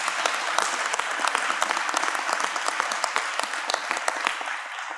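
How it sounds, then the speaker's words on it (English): A press-event audience gives students a round of applause at a Camden High School funding announcement, with a lively burst of many hands clapping that thins slightly toward the end. "Let's give them a round of applause."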